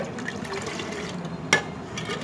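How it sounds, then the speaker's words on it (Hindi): A milk soda drink being mixed, a soft continuous liquid swirl and slosh with one brief sharper clink partway through, close and moderately loud with no talking. "इसको हम अच्छे से मिक्स कर लिए।"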